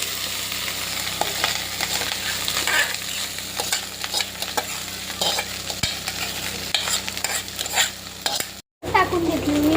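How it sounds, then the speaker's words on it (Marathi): Rice sizzles in a hot pan with turmeric and salt while a spoon scrapes and stirs it, a continuous close frying hiss broken by scraping strokes and a brief dropout near the end. "पहिला आपण भात टाकून घेऊया. हळूच टाकायचा"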